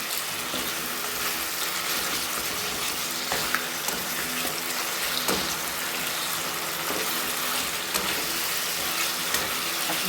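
A fish head frying among spices in a pan gives off a continuous bright sizzle at moderate level, with occasional small clicks and spatters over ten seconds and no talking.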